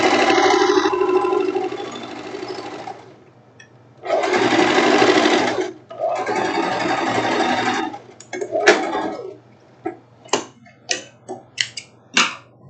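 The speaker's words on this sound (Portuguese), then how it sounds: "Vamos passar a costura todinha do outro lado." Sewing machine stitching a seam on a silk tank top, running in several buzzing runs of one to two seconds each. It ends with a series of short clicks and taps, close and clear, with no talking.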